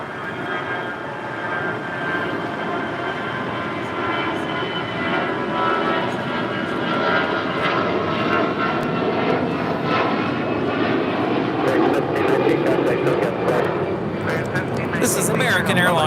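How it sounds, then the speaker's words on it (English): An American Airlines Airbus A319 takes off at LAX, a steady broad jet roar that builds and holds for the whole stretch, with people talking faintly underneath. "This is American Airlines 1719 taking off to Vancouver on an A319."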